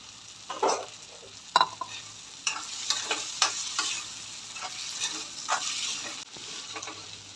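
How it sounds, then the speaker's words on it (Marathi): Sprouted moth beans with tomato sizzle in a hot pan while a spoon stirs them in uneven bursts of scraping over a continuous close frying hiss. "आणि त्याच्यात मोड आलेली मटकी टाकून घेऊया"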